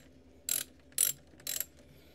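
A 10 mm ratchet wrench loosens the negative battery terminal on a third-generation Mazda Miata MX-5 NC, with three short, crisp clicking bursts evenly spaced about half a second apart, close and fairly quiet with no talk.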